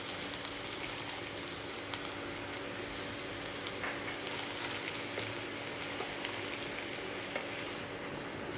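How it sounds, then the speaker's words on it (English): Tomatoes and chilies fry in a pan over a medium-high flame for tomato chutney, giving a steady, dense sizzle and crackle that holds evenly throughout with no talking. "So we heat this till the tomato skin has wrinkled up."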